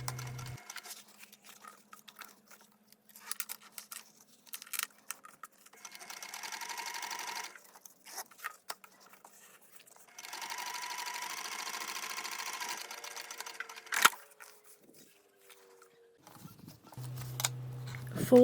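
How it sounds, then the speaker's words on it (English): Close, steady whir of a sewing machine top stitching through several fabric layers below a zipper on a crossbody bag, running in two long bursts separated by quieter gaps with faint handling noise. "top stitch below the zipper through all of the layers."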